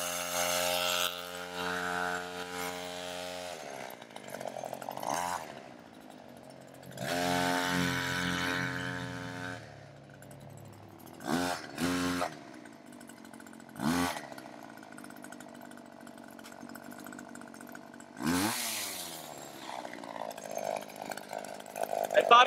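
Wild Badger 16-inch 40V electric chainsaw with a 4.0 Ah battery, running in several loud bursts of whining motor noise separated by short gaps, with rising and falling pitch as the saw revs and settles.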